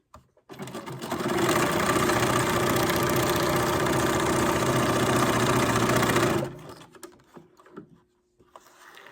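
A sewing machine stitches along the edge of a junk journal paper page, running loud and steady for several seconds before stopping abruptly, followed by faint handling sounds.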